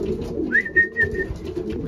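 Racing pigeons coo in a loft, one soft rolling coo rising over a continuous low murmur of other birds and shuffling, heard close.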